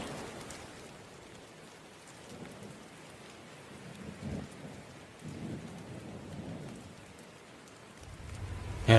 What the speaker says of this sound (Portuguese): Era como se o vento e a chuva estivessem empurrando o corpo de Musashi para o lado contrário